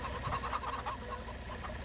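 In Farming Simulator 25, chickens cluck softly in a brief, steady stream of short calls over a low background hum.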